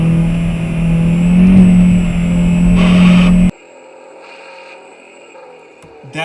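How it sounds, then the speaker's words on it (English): A car engine roars loudly under acceleration while the driver forces a shift up through third gear, which grinds, then the noise drops suddenly as the clutch goes in, leaving a quieter idle with faint mechanical scrapes. "that was third gear grinding"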